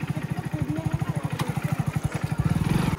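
A motorcycle engine labours in a steady, throbbing rhythm as it climbs straight up a hill, loud and close, with a faint thud partway through and no talk.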